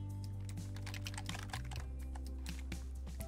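Keys clatter on a macro computer keyboard in a quick, uneven run of soft clicks, close and fairly quiet over a steady low hum.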